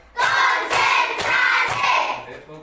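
Children in an elementary school class clap together in a rhythmic ice-breaker game, four loud, sharp group claps in an even beat.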